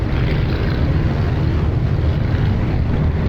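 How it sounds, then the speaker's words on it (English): Aircraft engines idle with a deep, loud, continuous roar in Microsoft Flight Simulator, a steady low drone without change in pitch or any talking. "I kind of like the sound of this aircraft. It has a very deep roar to it."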